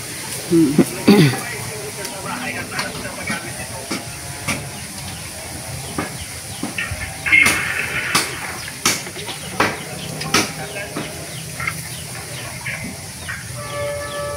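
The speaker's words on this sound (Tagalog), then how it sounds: "Yan na naman yung tren." A passing train heard at a distance, with hissing and intermittent clanks and knocks, while people talk over it and a bird chirps now and then.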